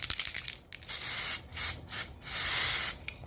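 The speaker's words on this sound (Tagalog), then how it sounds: "So kailangan natin ang sunscreen spray para hassle-free." Sunscreen spray can being sprayed in several short and longer hissing bursts, close and clear, with faint rubbing in between and no talking.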